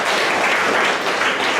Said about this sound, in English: Let's give applause for it.